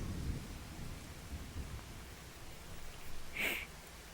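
Steady rain hisses in Farming Simulator 25, a soft, continuous broadband wash with low rumbling patches and a short brighter burst near the end, no voices.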